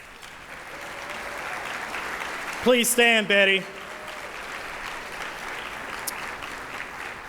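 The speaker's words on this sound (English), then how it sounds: "please give her a round of applause" Sustained applause from an audience at a business alliance annual meeting fills the whole stretch, with a brief spoken phrase rising over the clapping midway.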